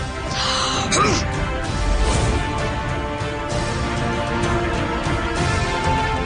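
A crow caws in a Hatim fantasy adventure TV episode, harsh calls set against a busy, loud soundtrack in which other voices and effects crowd the mix.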